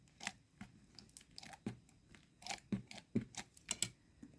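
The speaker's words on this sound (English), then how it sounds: "I'm just going to use my Crafter's Companion tape runner" A Crafter's Companion tape runner rolls tape onto card, a quiet close run of short scratchy clicks and tearing rasps in quick irregular bursts, with no talking.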